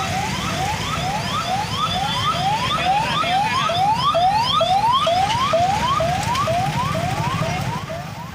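A loud 108 ambulance siren wails steadily on a road with pre-monsoon maintenance work, its rising sweeps repeating at an even pace as the vehicle passes nearby, fading slightly at the end.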